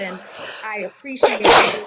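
A single loud sneeze from an unmuted participant in an online racial healing event bursts out right after a woman's speech, close and sharp.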